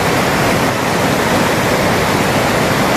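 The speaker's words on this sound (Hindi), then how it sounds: "और ये देखो पावर हाउस के अंदर से आ रहा है पानी" Loud, steady roar of water rushing out of a hydroelectric power house near a river confluence, dense and unbroken like a powerful torrent close by.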